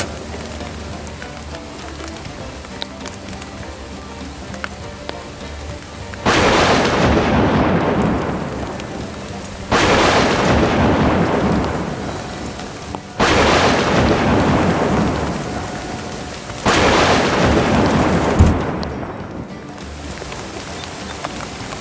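Heavy rain and thunder come in four loud, sudden roaring surges, each trailing off into a quieter, steady patter of rain between them.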